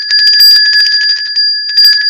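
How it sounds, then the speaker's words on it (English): A bright, sustained bell is rung rapidly on a live weather broadcast, a loud continuous trill of metallic strikes with one short pause before it resumes. "Ring your bell. I'll ring it."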